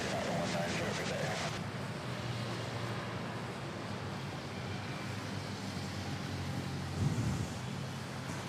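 A Boeing 777 airliner at Manila airport produces a steady, broad jet roar that holds evenly throughout at a distance, with faint voices beneath it.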